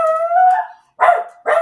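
A puppy lets out a long whining howl followed by two short sharp barks, close and loud, with no talking.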